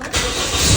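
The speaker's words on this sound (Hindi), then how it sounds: "गाड़ी को स्टार्ट करें, तब तक गाड़ी गर्म हो जाए" Car engine cranking and catching into a loud, close, steady rumble after a short quiet moment, settling into an idle that swells slightly toward the end.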